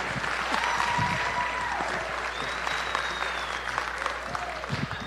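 An audience at a South Carolina gubernatorial candidate forum gives Attorney General Alan Wilson a round of applause, sustained, loud clapping from a crowd with some voices mixed in.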